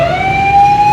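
An ambulance siren wails steadily in a crowded bazaar in Lahore, a sustained rising tone over dense traffic rumble, loud and continuous throughout.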